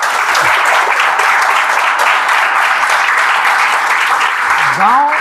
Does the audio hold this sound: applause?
yes